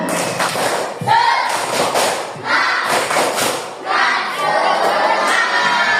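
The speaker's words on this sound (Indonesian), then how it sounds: "Coba tepuk semangat." Sixth-grade schoolchildren in an Indonesian classroom do a rhythmic spirit clap, with grouped bursts of clapping and thumping mixed with children's shouts and cheers.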